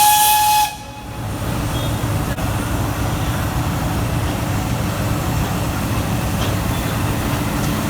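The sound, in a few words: steam train whistle, Nilgiri Mountain Railway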